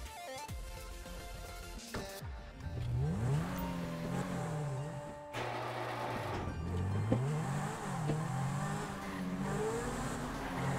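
Modded cars driven in GTA San Andreas, with engines revving and rising in pitch through repeated gear shifts, tire noise and the rush of passing traffic, steady and fairly loud with no voices.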